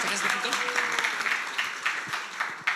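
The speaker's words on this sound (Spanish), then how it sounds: "Por favor, un gran aplauso." Audience applause at a real-estate marketing conference, a dense steady patter of many hands clapping at moderate distance, with a faint voice briefly rising beneath it.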